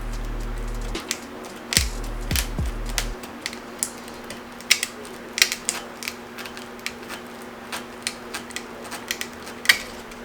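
Cutters trim a braided AN oil cooler line, giving a series of sharp close snips and clicks in an irregular rhythm over a quiet background, with a brief low hum early on.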